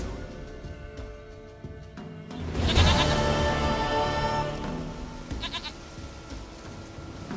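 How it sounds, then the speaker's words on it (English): Goat bleating in The Witcher 3 video game, a loud wavering bleat rising near the middle with a shorter bleat after, over a quiet game ambience. "Goat of mine, dearest, sweetest goat"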